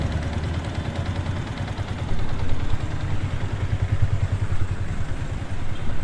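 Suzuki Sniper Fi 150 motorcycle engine running close by with an abnormal noise, a steady low rumble with busy, clattering pulses that swell slightly louder partway through, no voices.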